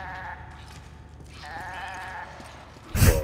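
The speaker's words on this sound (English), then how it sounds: "Why would you want to attack the goat?" A goat bleats in Resident Evil 5, a wavering, nasal game-animal cry in two stretches, followed by a sudden louder thump near the end.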